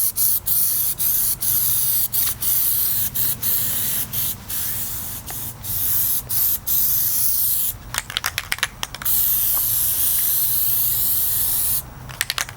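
Plasti Dip aerosol paint hisses from a spray can onto car rims in a long series of close, loud bursts separated by brief gaps, with a cluster of rapid short sprays near the middle and another near the end.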